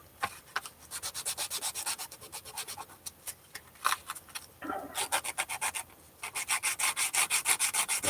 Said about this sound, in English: This is fine sandpaper.